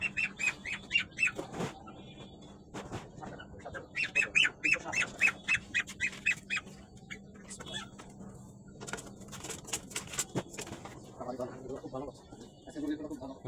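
Repeated bird squawks and clucks burst out in clusters over a noisy, busy background with people talking, like a live chicken in a market.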